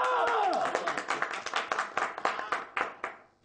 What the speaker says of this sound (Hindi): आप लोगों ने मुझ पर लान तान करने के बजाय तालियां बजाई